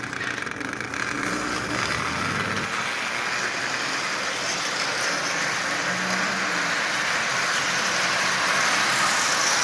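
A Marx 400 toy train locomotive with a new 490 shell runs on rails pulling around sixteen to eighteen cars, its small motor giving a steady whirring rumble with faint rattles, close and continuous.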